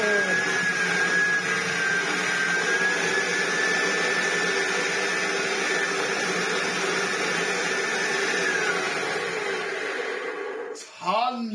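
An old Hotpoint Junior vacuum cleaner running with a loud, steady motor drone and a high whine, briefly dipping and wavering just before the end.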